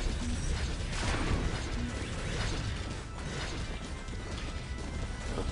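A grinder trap being placed in Orcs Must Die 2 during endless survival, heard as dense, loud mechanical grinding and ratcheting clatter that runs without a break under other game noise.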